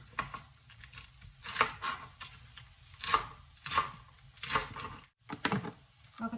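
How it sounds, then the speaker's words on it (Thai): A knife chops washed salad vegetables on a cutting board at home, sharp spaced strokes landing in an irregular rhythm, close and fairly quiet with brief pauses between cuts. "เดี๋ยวเราจะมาหั่นพักสลัดให้น้องเจนต้าจ้ะ"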